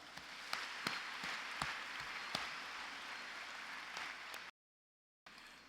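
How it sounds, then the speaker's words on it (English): Applause from a graduation ceremony audience at Ateneo de Davao University, a steady dense wash of many hands clapping with a few sharper claps standing out, continuing for several seconds before briefly cutting out. "let us savor this moment and give ourselves a round of applause"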